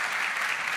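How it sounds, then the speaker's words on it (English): Audience applause at a startup pitch competition final, a brief steady wash of clapping from a crowd. "Give it up, a round of applause."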